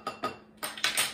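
Whisking eggs in a bowl for chocolate zucchini banana bread in a home kitchen, heard as quick metallic clinks and scrapes in a few close bursts with a short pause between them.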